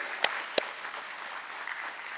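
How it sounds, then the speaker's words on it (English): Audience applause following a lamp lighting ceremony at the stock listing of Suyog Gurubaxani Funicular Ropeways Limited: a faint, steady wash of distant clapping with two sharper, closer claps standing out early on. "The applause should not stop, ladies and gentlemen."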